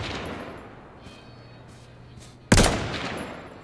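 A single loud, sharp gunshot cracks out in H1Z1: Battle Royale after a quiet stretch of faint background hum, followed by a short decaying echo.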